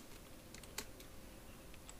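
Code is typed on a computer keyboard in quick, faint clicks, with one sharper key press standing out among the soft, irregular taps.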